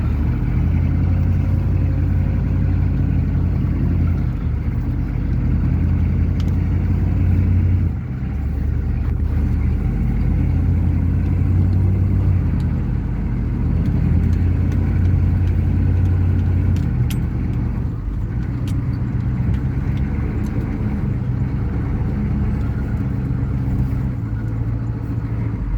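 A truck with a 6.2L Detroit diesel idles and creeps while backing a trailer around a yard, a steady loud low rumble throughout with a brief dip partway through.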